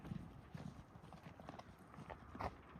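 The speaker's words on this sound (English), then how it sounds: "Those are UK horses, bro." Horses walking in the UK, hooves clip-clopping in a loose, irregular rhythm, quiet and somewhat distant beneath outdoor background noise.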